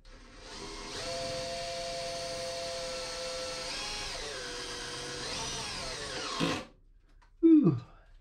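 Power drill driving self-drilling screws during boat maintenance, a steady whirring run lasting several seconds with pitch shifts as the screw seats, then stopping, followed by a brief clunk.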